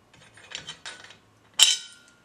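A giant wing nut is twisted off the bracket of a heavy-duty tripod stand, a few soft metallic scrapes and rattles followed by a brighter clank as the part comes free, close by with no talk.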